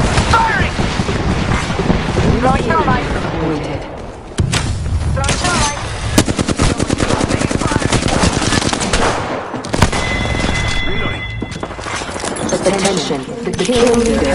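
Rapid automatic gunfire and bursts of shots rattle through a squad-based battle royale shooter game, loud and nearly continuous, with in-game voice callouts and tonal alert beeps mixed in.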